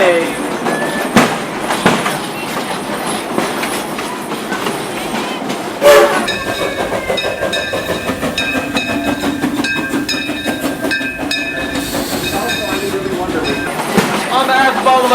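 Amusement-park excursion train on the Frisco Silver Dollar Line rumbles along steadily, with rolling wheel noise, clattering cars and a sharp horn-like burst around the middle, while voices carry faintly beneath.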